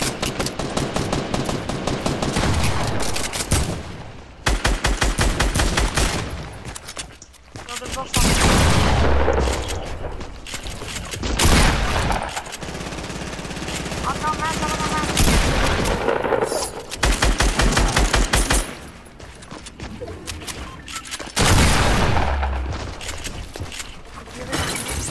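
Rapid automatic gunfire from the video game Fortnite comes in loud, dense bursts broken by short pauses, with a voice talking over parts of it.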